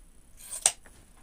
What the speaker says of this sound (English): One of my favorite scissors of all time.